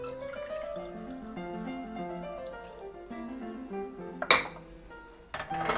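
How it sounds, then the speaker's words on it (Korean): Shiitake mushroom soaking water being strained through a sieve into a vessel, with a ringing pour that shifts in pitch as it fills, followed by a couple of sharp clinks of kitchenware. "아까 표고버섯 담가놨던 물 체에다 받쳐서 네, 걸르겠습니다"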